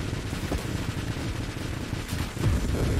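Dense stream of missile and weapon fire in the space shooter game Nova Drift, a continuous busy rumble of launches and blasts with heavier bursts near the end, no talk over it.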